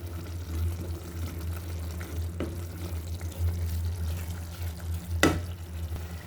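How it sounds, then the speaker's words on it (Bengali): Coriander and chili powder spice paste for shing fish bhuna fries in a pan as it is stirred, a soft steady sizzle with light scraping and a couple of sharper clinks of the utensil against the pan. "মশলাটা নেড়ে চেড়ে সুন্দর করে ভালোভাবে কষিয়ে নেব।"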